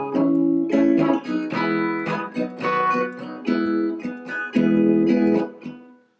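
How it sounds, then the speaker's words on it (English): Acoustic guitar strummed in short, choppy, percussive strokes, a steady pulsing rhythm of clipped chords, close and loud with no voice. "it shortens the strum to give it a little bit more of a percussive feel"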